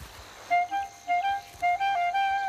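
Greylag geese, wild ancestors of domestic geese, give a run of clear nasal honks in short repeated bursts, fairly close and loud above a quiet outdoor background, with no voices.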